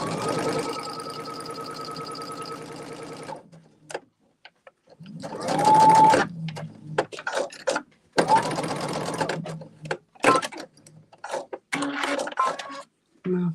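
A sewing machine stitching a quilt block runs in two steady bursts, loud and close, with short pauses and some handling noise between, and someone talks over parts of it.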